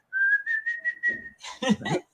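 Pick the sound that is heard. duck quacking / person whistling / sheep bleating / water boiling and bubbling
person whistling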